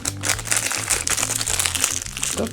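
Plastic packaging around a roll of double-sided tape crinkles and crackles steadily as it is handled, close and continuous over a low, sustained background tone.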